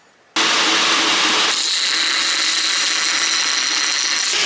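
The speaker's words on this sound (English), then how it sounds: "Over here on the surface grinder" A surface grinder works on a ladder Damascus knife, starting abruptly into a loud, dense abrasive roar that shifts tone partway and then holds steady without speech.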